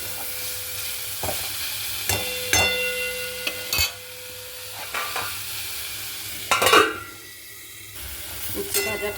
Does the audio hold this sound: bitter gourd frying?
yes